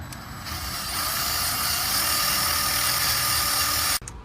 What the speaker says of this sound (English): I got it cleaned up with my little wire brush